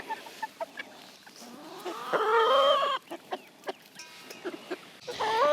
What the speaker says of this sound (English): We think it might be a rooster